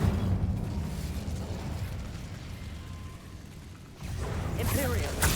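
Incendio fire spell cast in Hogwarts Legacy: a rumbling fiery burst and whoosh in game combat, a lull, then a second rising blast of flame with crackling.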